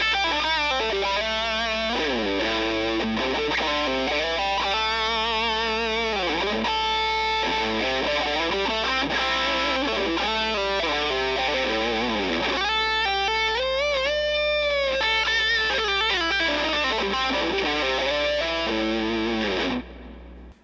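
Electric guitar run through a PRS Mary Cries optical compressor pedal, playing a busy, loud, even-level lead with fast bends and sustained notes under distortion, steady volume throughout and a faint constant hum beneath, no talking.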